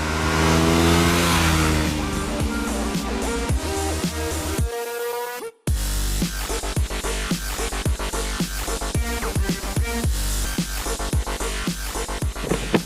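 A Kawasaki Z300 motorcycle engine revs and accelerates hard through the gears, a loud rising buzz that cuts out briefly during a shift and then climbs again with rapid pulsing.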